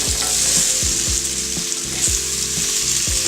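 Mixed vegetables for sambar, including drumstick, frying in oil with a steady loud sizzle, broken by several rhythmic scrapes and knocks of a stirring spoon against the pan; no voices.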